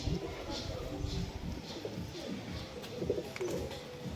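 A long-bodied pair of Punjabi Malbai pigeons coo in soft, repeated low calls close by, with a faint voice murmuring underneath at times.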